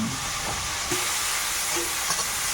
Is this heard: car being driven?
no